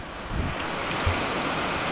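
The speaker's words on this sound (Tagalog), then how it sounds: "Ayan, lakas ng ulan." Heavy rain pouring down outdoors, a continuous broadband hiss with a few low thumps, steady and fairly close with no voices.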